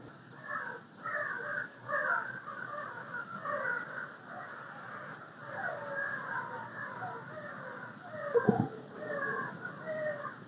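Crows at their roost in a thicket during an October bowhunt in Iowa caw repeatedly and overlapping, a busy chorus of harsh calls at middle distance with one sharp louder sound near the end.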